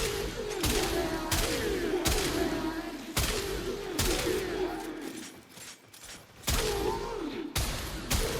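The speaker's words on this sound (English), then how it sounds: "It's a great shotgun, especially if you're new to Warframe" In Warframe, a Strun Prime shotgun fires in a run of sharp, heavy blasts about once a second, with a brief gap before the last shots, over steady game background noise and humming tones.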